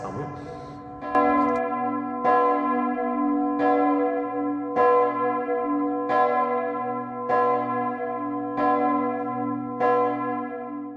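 A church bell cast by the Bollée foundry, installed in 2004 in the belfry of Saint-Martin church in Festalemps, rings alone with steady, evenly spaced strikes about every 1.2 seconds, each leaving a long, rich humming tone.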